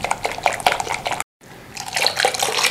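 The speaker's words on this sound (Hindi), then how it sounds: "आधा किलो दही में मैंने 2 कप पानी डाला है।" Water is poured into half a kilo of set yogurt for Lahori dahi bhalla, giving a close, splashy liquid sound that stops briefly and then resumes.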